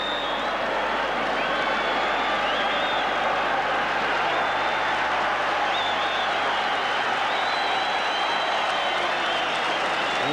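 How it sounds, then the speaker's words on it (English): A rugby league crowd at the 1984 St Helens versus Wigan Lancashire Cup Final roaring and applauding after a St Helens score, a broad continuous wash of cheering with whistles rising above it throughout. "the St Helens section of the crowd, they're going wild at this score"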